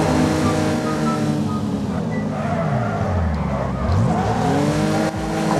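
Engine note of a car in the demolition racing game Wreckfest, droning steadily with pitch sweeping up and down as it revs, loud and continuous with some tire and scraping noise layered in.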